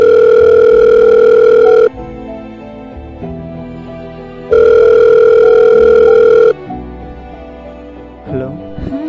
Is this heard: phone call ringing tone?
yes